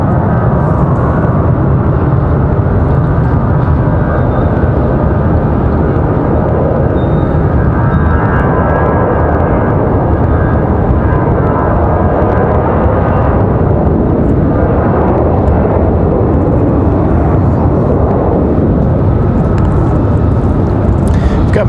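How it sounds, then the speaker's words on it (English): An Airbus A319 jet airliner rolls for takeoff at Raleigh-Durham airport, its engines producing a steady, loud broadband roar that swells and holds throughout, heard from a distance with faint voices underneath. "This A319 ready to roll."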